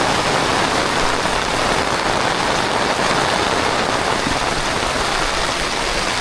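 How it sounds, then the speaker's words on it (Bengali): Heavy rain falls steadily on the surroundings and onto a waterproof camera, a loud, unbroken broadband wash of drops close to the microphone throughout, with no voices. "ক্যামেরা অলরেডি মনে করেন বৃষ্টির পানিতে ভিজতে আছে"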